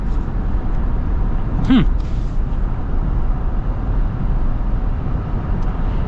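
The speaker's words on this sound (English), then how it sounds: "Less noise on the highway, a little bit more wind noise up here." Steady broadband wind and road rush fills the cabin of a Toyota Land Cruiser cruising on the highway, a constant low roar with a brief voice cutting through.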